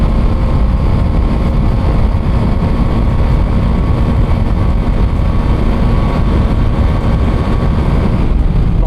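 A BMW F450 GS parallel-twin motorcycle runs flat out in sixth gear at top speed, a loud constant engine drone heavily buffeted by wind rush throughout, with no talk.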